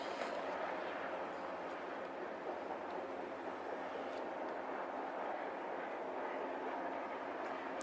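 A train passes far off at night, a faint steady rumble that holds evenly throughout with no talk over it.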